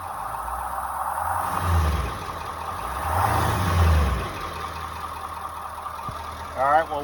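A 7.3L Powerstroke diesel engine in an E450 box truck idles with a deep low rumble, then swells through two throaty revs before settling back, with faint background noise throughout.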